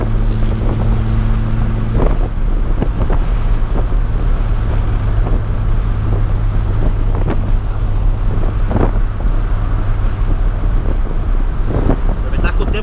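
A Volkswagen Gol Quadrado accelerates hard on a highway, its engine droning as a steady, loud roar thick with wind rush, and someone speaks briefly over the noise.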